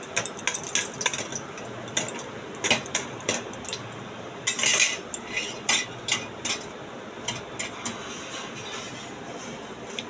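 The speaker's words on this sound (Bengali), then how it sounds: "দেখুন আস্তে আস্তে করে আমি সব পকোড়াগুলো এর মধ্যে তুলে নেব।" Fried note shak (amaranth greens) pakoras are lifted out of the oil with a metal utensil, making irregular clinks and scrapes against the pan with a dense clattering burst midway.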